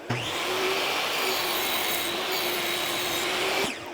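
A table saw cuts a dado in wood, its blade whining loud and close in one sustained pass of about three and a half seconds before spinning down, with no talk.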